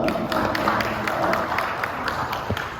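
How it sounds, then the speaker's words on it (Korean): A church congregation at a Sunday worship service applauds steadily in a dense, continuous wash of clapping, with voices mixed faintly underneath. "오늘 박수 환영하겠습니다"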